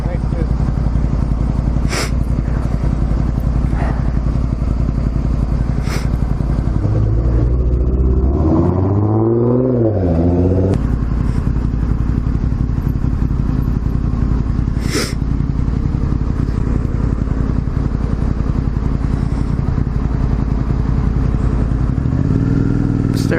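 Motorcycle engine rumbling loud and close, with a sharp rising rev and acceleration midway, then settling back to a steady drone, with occasional clanks and wind noise.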